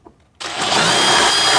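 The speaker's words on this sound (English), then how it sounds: "I've added the next larger size bit in my drill, and I'm just going to drill them all out" A power drill fitted with a larger bit spins up abruptly after a brief hush and holds a steady, loud whine as it bores out holes.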